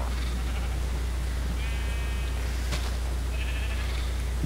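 Sheep in the Minecraft video game give a few short bleats, mid-distance, over a steady low hum and background noise, with no talking.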